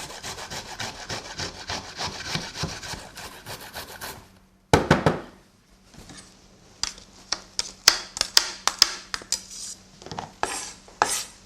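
Fresh ginger rubbed against a medium-sized grater for a Kerala pumpkin soup, a steady rasping scrape that pauses briefly, then returns as sharper, separated strokes and taps, close and alone.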